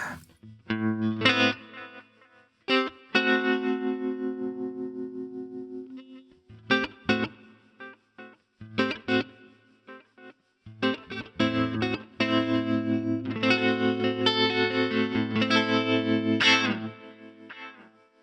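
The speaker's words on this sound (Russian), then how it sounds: "Давайте тейп-эхо." An electric guitar plays through a NUX MG-100 multi-effects processor with its tape echo delay engaged, sounding distorted and trailing repeats under sustained chords and short picked phrases, close and clear with brief gaps.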